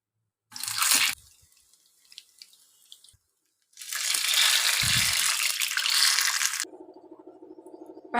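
A crispy fried medu vada, a South Indian urad dal fritter, cracks apart in two bursts of brittle crunching, close and fairly loud, split by a quiet gap, followed by a steadier low clatter.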